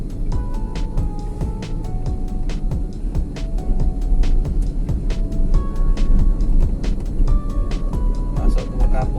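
A car accelerating in third gear on a night drive, a steady engine drone with rising tonal whine under ticking interior noises, close and continuous throughout.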